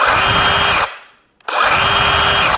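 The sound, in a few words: Dewalt 20V XR power tool running with soft start and brake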